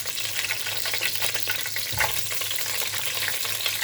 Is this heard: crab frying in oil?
yes